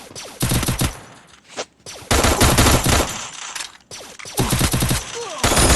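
Bursts of automatic gunfire from the video game Free Fire, loud and close, arriving in several sustained volleys with brief gaps between them.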